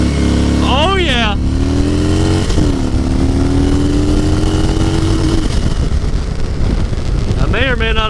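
A Harley-Davidson Dyna Switchback pulls hard from a standstill toward 60 mph, the engine rising through the gears beneath heavy wind rush, with a voice shouting briefly at the start and end.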